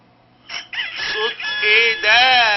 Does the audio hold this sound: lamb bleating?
no